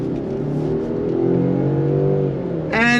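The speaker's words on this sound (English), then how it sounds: "the 4-cylinder doesn't sound too much like a 4-cylinder turbo, which is kind of good" A 2025 Land Rover Defender 110 Heritage Edition's 4-cylinder turbo engine revs, heard from inside as a smooth rising and falling drone over a few seconds, ending in a brief sharper burst.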